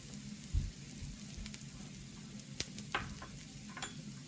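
White onion with chilli sautés in a pan, a faint, even sizzle with occasional light stirring taps and a couple of small clicks, and no voices.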